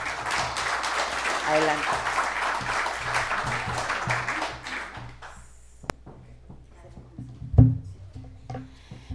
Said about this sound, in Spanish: les pido a nuestros invitados que les den a los tres un fuerte aplauso